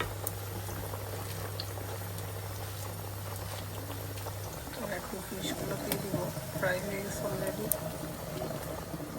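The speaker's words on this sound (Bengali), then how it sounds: "আর একটা মাছ একদম লাল লাল করে ফ্রাই করতেছি" A fish fries in a pan, cooked until deep red and browned. It gives a steady, close bubbling sizzle with crackly patter that runs the whole time, with a voice talking over it.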